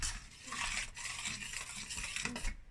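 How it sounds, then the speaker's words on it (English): Tomatoes for a beef stew sizzle and simmer steadily in a pan, with occasional stirring and scraping of a utensil against the bottom. "I'm adding my tomatoes, and they're gonna fry at the same time"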